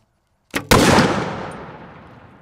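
An exploding target struck by an arrow from a 40-pound Bear Mag takedown bow: a short sharp crack, then a second loud blast about a fifth of a second later whose roar decays slowly over two seconds.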